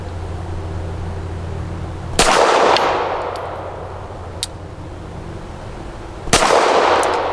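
Two loud, sharp gunshots from a Canik SFx Rival S pistol, a few seconds apart, each a hard crack followed by a ringing tail and the tinkle of ejected brass over steady outdoor background noise.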